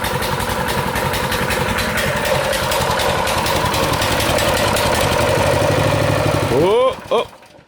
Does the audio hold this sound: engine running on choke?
yes